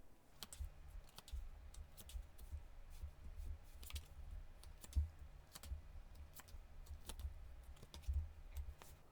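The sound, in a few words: tarot cards being drawn and handled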